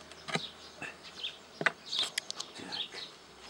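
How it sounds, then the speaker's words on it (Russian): Honeybees buzz close by near a beekeeper working new hive frames outdoors, several passes of a fluctuating drone rising and fading as insects fly near the microphone, with faint bird calls in the background. "Возле меня такая что-то решила полетать. Пчелка."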